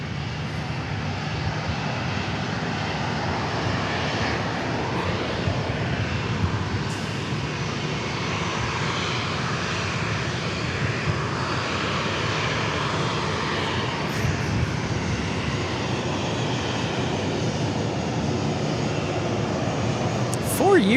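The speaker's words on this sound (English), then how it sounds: "I wonder if this is the Gulfstream that just took off but landed on the south runway." A Gulfstream jet aircraft at Dallas Love Field produces a steady, broad engine roar that stays loud and even at mid distance for about twenty seconds, with faint voices talking underneath.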